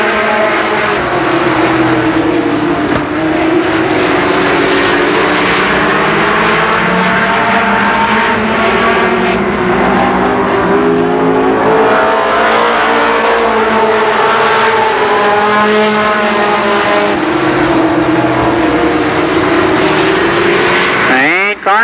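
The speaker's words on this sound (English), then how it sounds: "Mike Carroll, the leader in car number 6. Jack Sims is second in car 17." Race cars circle the oval at Columbus Motor Speedway in 1990, a continuous loud roar of engines rising and falling as they pass, with a commentator talking over the racing throughout.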